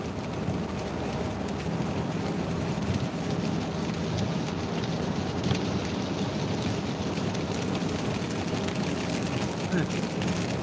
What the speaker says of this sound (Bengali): বৃষ্টি বাড়ছে তো